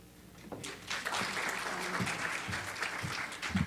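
Audience applause at an evening awards ceremony for community recipients, a steady wash of many hands clapping at moderate volume that builds just after the start and holds evenly to the end, with no voices over it.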